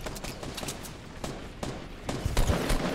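Rapid gunfire from a Fortnite Battle Royale squads match, a steady run of sharp shots and bursts that grows denser and heavier toward the end, with no talk over it.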